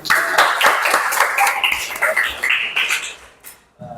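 Schoolchildren in a classroom clap their hands together in a lively, uneven burst of sharp claps, with young voices calling out over them and a brief lull near the end.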